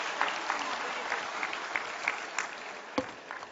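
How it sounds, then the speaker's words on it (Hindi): Audience at an event applauds in a sustained round of clapping, with individual sharp claps standing out from the steady patter throughout. "एक बार जोरदार ताली इस शानदार आयोजन के लिए"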